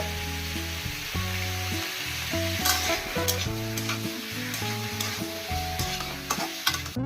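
Vegetables for shukto fry in oil in a pan with a loud, constant sizzle, punctuated by sharp scrapes and clatters of a spoon stirring them.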